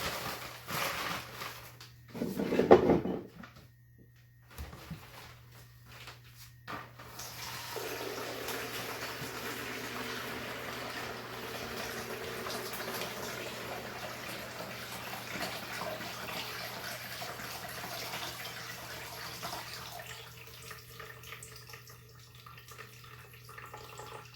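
Water poured while making cold brew coffee: a brief louder splash early on, then a long, steady, quiet stream of pouring with a constant low hum beneath it.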